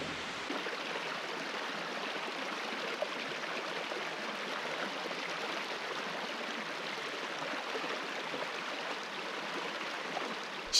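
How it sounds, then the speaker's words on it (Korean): A mountain stream near a hillside temple in Gokseong flows with a steady, even rush of water, continuous and moderately distant, with no voices. "시원한 물소리가"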